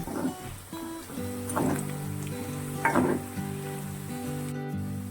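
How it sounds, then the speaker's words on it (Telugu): Chicken pieces for pickle frying in hot oil and being stirred, a steady close sizzle with a few louder scraping stirs, under a faint background tone. "ఇప్పుడు ఓన్లీ ఆయిల్లో మాత్రమే ఫ్రై అవుతున్నాయి."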